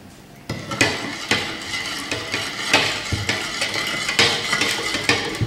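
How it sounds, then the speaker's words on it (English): Spoon stirring sugar into coconut water, repeated clinking and scraping against the container in an uneven rhythm, close and fairly loud with no talking. "Okay, now we're going to stir it."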